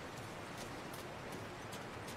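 Quiet, continuous rain in The Last of Us Part II: a faint, even wash of falling drops that runs unbroken and has no talk over it.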